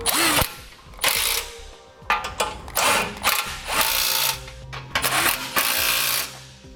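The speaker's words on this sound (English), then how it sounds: "We need to get our holes lined up, then reinstall our bolts with red Loctite on them. And now begin tightening them up." Bolts coated in red Loctite are run in with a power tool to fix a Roadmaster Direct-Connect base plate bracket to a 2016 Chevrolet, giving loud, close bursts of whirring and ratcheting with short pauses between them.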